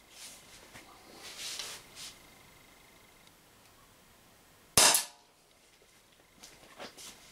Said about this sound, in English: Not shooting at anything specific. Just into my trap there.